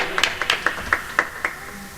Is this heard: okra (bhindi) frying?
no